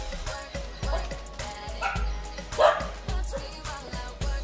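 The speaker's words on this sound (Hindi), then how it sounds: "जितने भी डॉग हैं सब भाई खतरनाक तरीके से चिल्ला रहे भाई इस पे" Several street dogs bark repeatedly at a Rottweiler outdoors, sharp yelps and woofs coming in a steady, overlapping rhythm at moderate distance.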